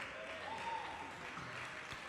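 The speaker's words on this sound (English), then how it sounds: "Ladies and gentlemen, a round of applause for Ajuntas and Edgardo Rivera." Applause at a FIBA 3x3 Sydney Challenger 2018 basketball event, a faint, steady wash of clapping from a distant crowd that holds evenly throughout.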